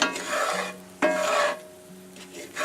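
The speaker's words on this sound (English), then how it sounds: "So what I'm doing is just letting it brown, scraping it forward, scraping it back." Mushrooms browning in a hot pan are scraped back and forth with a utensil, making rasping strokes over a soft background sizzle, heard up close with no talking.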